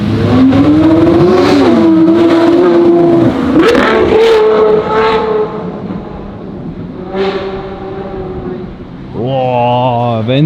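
A Lamborghini Aventador SV passes on a city street in Zurich, its engine revving loud and close with rising and falling sweeps, then settling to a lower rumble before another surge. The driver shouts over it.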